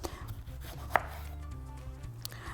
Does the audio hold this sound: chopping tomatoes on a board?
yes